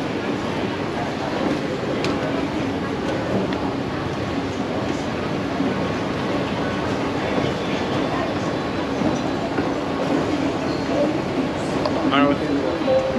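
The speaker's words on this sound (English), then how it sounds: "So we're taking the train on rush hour on Thursday, 5 o'clock." Commuter train in Bangkok at rush hour, a steady loud rumble of the carriage running on the rails throughout, with crowd chatter and voices mixed in beneath it.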